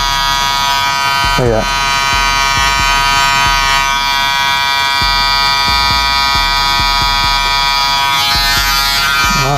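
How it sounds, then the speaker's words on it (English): An electric hair trimmer from a barber kit bought on eBay runs with a steady, close, high-pitched buzz throughout, while someone talks over it. "that's how you know you got a good trimmer"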